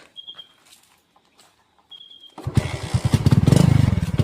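A motorcycle is wheeled out and started; after a quiet stretch with a couple of bird chirps, the engine catches and settles into a close, loud, rapid puttering idle.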